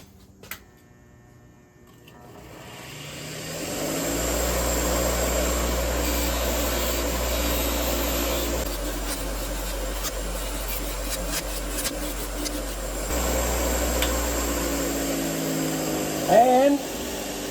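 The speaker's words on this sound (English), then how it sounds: "put them on my wire wheel" A bench wire wheel spins up and cleans metal rod rack hooks, a loud steady motor whine with rising hum, plus brief buzzing when metal meets the bristles.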